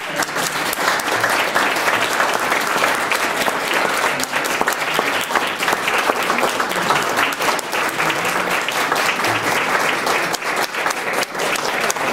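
Loud, dense audience applause fills a school board meeting room in Fullerton, a steady wash of many hands clapping close by for about twelve seconds with no speech.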